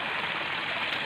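River water flowing in Mataas na Lupa, Indang, Cavite, a steady broadband rush of a stream current, close and continuous with no voices.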